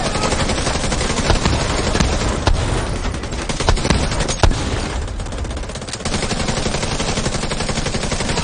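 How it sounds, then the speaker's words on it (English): Gunfire in the video game Division 2, a dense, loud stretch of sustained automatic shots with occasional sharper bursts, continuous from start to end. "Is his gun shooting for you guys?"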